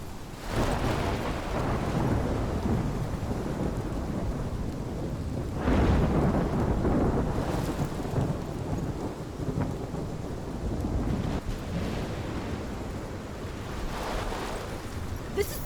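A thunderstorm from the video game Life is Strange: steady heavy rain hisses throughout while deep rolls of thunder rumble and swell at intervals, loud and enveloping with no talking.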